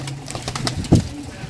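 A desi pigeon close by gives a short throaty coo amid handling noises, one brief rounded call partway through the moment.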